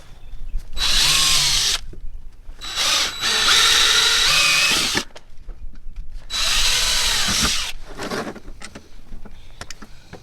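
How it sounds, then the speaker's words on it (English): A power drill whines loudly in three long bursts with short pauses between, the pitch steady as it bores holes for garage door hardware. "Drill them."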